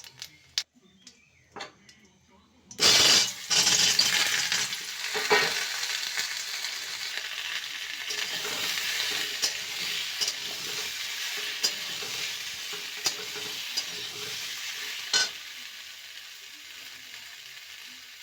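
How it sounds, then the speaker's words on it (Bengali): Small peeled potatoes hitting hot oil in a kadai, a few quiet clicks first, then a sudden loud burst of sizzling that settles into a long steady crackle with occasional stirring scrapes and taps. "কড়াতে তেল দিলাম, তেল দিয়ে অল্প আলুটা প্রথমে নেড়ে নেব।"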